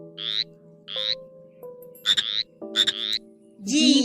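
Cartoon frog croaking in a children's alphabet nursery rhyme, a series of short raspy croaks in an irregular rhythm over a soft sustained musical tone, close and clear with no talking.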